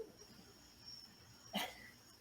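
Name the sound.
dog barking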